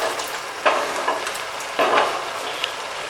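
Mutton liver and spinach frying on full flame in a pan, a soft steady sizzle broken by a few sharp bursts as the food is stirred and turned.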